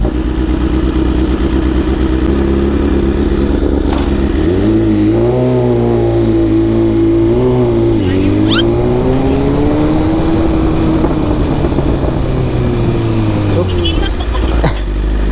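A BMW big bike motorcycle engine idles loudly up close and revs up and down in several swells, with people talking over it.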